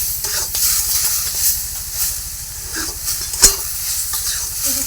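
A ground paste of cumin, ginger and chilli is being sautéed in a pan. It gives a steady bright hiss and sizzle with a low rhythmic hum beneath and a few faint clinks, near and alone.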